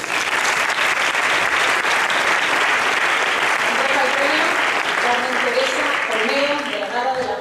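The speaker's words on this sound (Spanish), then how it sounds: "Un aplauso para Ánica García Escudero." An audience at a youth and professional awards ceremony applauds at length, a dense steady wash of many hands, loud and sustained, with voices rising faintly underneath near the end.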